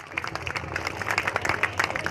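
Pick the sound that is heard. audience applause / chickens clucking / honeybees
audience applause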